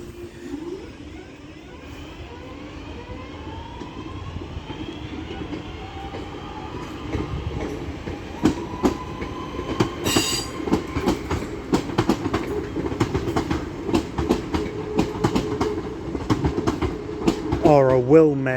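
A Northern passenger train departs Stoke-on-Trent station on its service to Manchester Piccadilly, giving a steady engine drone, then rising rail clatter and repeated clickety-clack over joints, with a brief squeal near the end.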